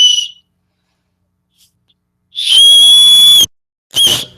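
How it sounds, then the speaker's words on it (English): A survival whistle blown hard, giving a piercing high shrill tone: a short blast at the start, a long sustained blast of about a second, then a brief final blast, loud and close. "But a high shrill whistle, you got to get just right in your mouth."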